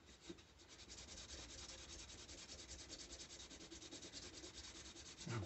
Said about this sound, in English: I'm putting it on my sandpaper and rubbing.